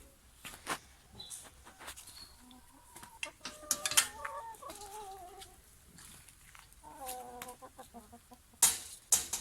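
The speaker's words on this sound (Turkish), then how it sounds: "Şimdi tavuklarımızı görelim." Several chickens cluck and squawk nearby in irregular bursts, with occasional sharper calls and faint background rustling.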